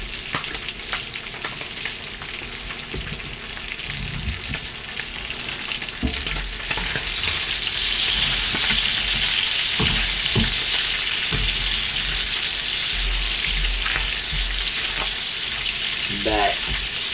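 Bacon frying in a pan for a country pancake breakfast, starting with quieter kitchen clatter and then swelling into a loud, continuous sizzle with occasional pops and scraping stirs.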